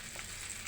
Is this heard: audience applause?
no